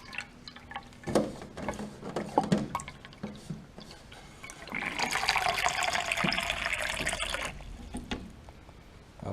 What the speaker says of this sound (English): So I'm just gonna pour water right now.